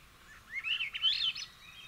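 A bird sings in a Pacific Northwest forest: one short, high, warbling phrase, fairly faint and alone over quiet background hiss.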